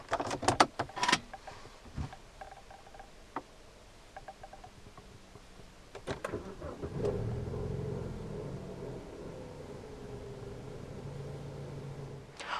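A 2005 BMW 320i with its door shut: a few sharp clunks and rattles, then the engine cranks and catches near the seven-second mark and settles into a steady, muffled idle rumble.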